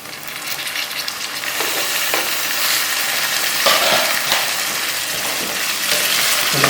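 Onions frying to a light brown in a pan for dhaba-style daal mash give a steady, close sizzle, with a few soft stirring clicks and scrapes breaking through. No one speaks.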